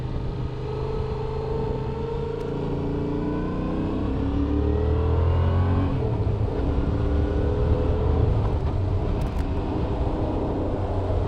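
A Yamaha MT07 motorcycle engine drones steadily through a ride, its pitch rising and falling through the gears with a constant low rumble and rushing wind noise layered over it.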